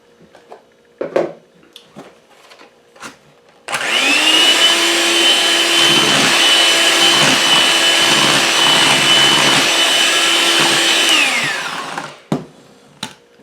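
An electric mixer whirs loudly and steadily for several seconds while creaming butter and sugar for caramel-toffee cookies, framed by light clinks and taps before and after.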